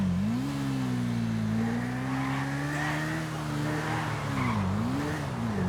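A steady, loud engine drone from a motorbike racing in Grand Theft Auto V, its pitch rising and dipping as it speeds along, with no pauses.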